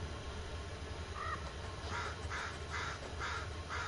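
Crows caw in a forest in the Blair Witch game, a run of five or six harsh calls at a steady pace, somewhat distant over a low ambient rumble.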